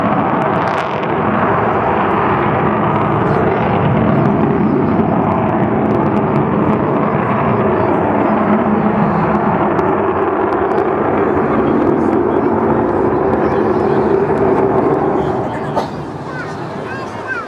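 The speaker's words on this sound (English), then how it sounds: "Martin Withers flying her, the man who flew the aircraft down to the Falkland Islands." Avro Vulcan bomber flying at an RAF Cosford airshow in 2009, a steady broad jet roar that fills the whole stretch and eases off near the end, with wind buffeting and faint crowd noise beneath.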